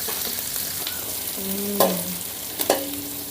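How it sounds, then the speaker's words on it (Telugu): Chopped garlic and green chillies frying in hot oil for veg Manchurian, a close continuous sizzle with a couple of sharp spatula clinks and scrapes. "మనం సన్నగా తరిగి పెట్టుకున్న వెల్లుల్లి రెబ్బల్ని కూడా వేసుకుందాం. ఇందులోనే మనం సన్నగా తరిగి పెట్టిన పచ్చిమిర్చి ముక్కల్ని కూడా వేసుకుందాం."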